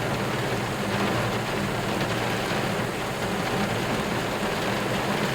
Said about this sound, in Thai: ฝนตกฟ้าร้องแดดออก สู้กันต่อไปครับ